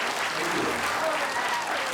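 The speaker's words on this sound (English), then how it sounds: "Can we round of applause for everybody?" Audience applause after a community play night in Port McNeill, a steady wash of clapping from a seated crowd that fills the whole moment without a break.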